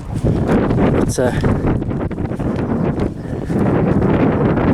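Wind gusts steadily against the microphone on a breezy, sunny morning outdoors, a loud rumbling roar lasting the whole stretch while a person talks over it.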